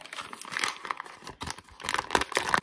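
A paper wrapper crinkling and tearing as a stick of soft butter is unwrapped for a three-layer brownie recipe, steady close rustling throughout with no talk.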